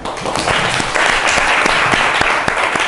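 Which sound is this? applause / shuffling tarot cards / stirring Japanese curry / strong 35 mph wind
applause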